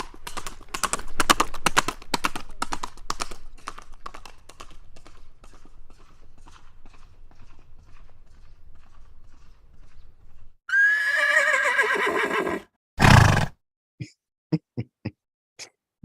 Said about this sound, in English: use any or all of the horse sounds